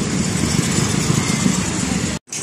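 A Kymco Super 8 150 scooter engine running steadily at close range, a loud, even idle hum that cuts out abruptly for a moment near the end before resuming.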